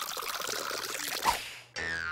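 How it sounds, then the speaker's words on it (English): Water pours steadily into a large jar, a continuous splashing rush that rises in pitch as the jar fills, then shifts to a brief ringing, resonant tone near the end. "Take a large jar, and you fill it almost to the top with water."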